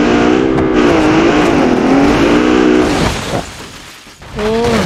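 A Rolls-Royce engine revs hard at high speed in a crash-test setting, a loud sustained roar with rising and falling harmonic pitch that dips briefly near the end, then surges again.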